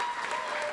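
Audience applause at a community transition program graduation ceremony for graduating students, a brief steady wash of clapping from a crowd with no break in it.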